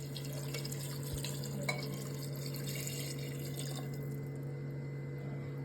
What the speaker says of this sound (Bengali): এখন আমি জলটা অ্যাড করে দিচ্ছি।